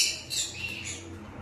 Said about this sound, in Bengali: এটা আমাদের টেম পাখি